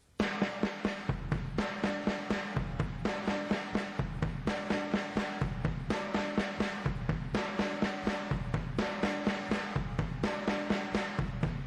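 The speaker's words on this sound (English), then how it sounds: "we're going to take that paradiddle and we're going to put two bass drum hits right behind it" A drum kit plays a steady paradiddle pattern with bass drum thumps, repeating evenly in a clean, close groove with no voices.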